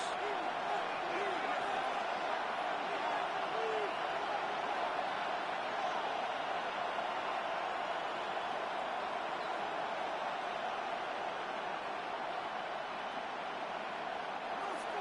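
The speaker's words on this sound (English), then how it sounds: "The noise very loud from the crowd." A stadium crowd roars in the football video game Madden, a constant loud wash of noise late in the fourth quarter that never lets up.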